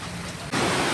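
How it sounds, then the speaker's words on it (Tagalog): Fairly heavy rain pouring down outdoors during a storm at a house with plants, a steady broadband hiss that swells suddenly louder halfway through and stays strong, with no voices. "Medyo malakas yung ulan."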